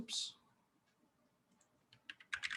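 Clicky keystrokes on a computer keyboard while searching Ruby documentation: a short burst at the start, a quiet gap, then a quickening run of taps near the end, close and fairly soft.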